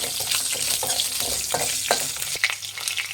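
Green chillies fry in a pan for chicken biryani with a steady, close sizzle, broken by occasional stirring scrapes and no voices.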